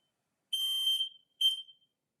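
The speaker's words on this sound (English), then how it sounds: "Did you guys hear my smoke alarm go off?" Two shrill electronic alarm beeps, a long one then a short one, piercing and clear against silence.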